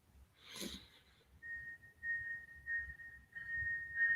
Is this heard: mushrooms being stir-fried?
no